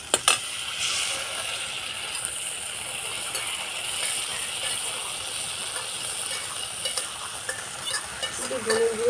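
Spices, tomato and ground chili paste sizzle and fry steadily in a pan while being stirred, with scraping spatula strokes and light clinks throughout, close up and moderately loud, no voices.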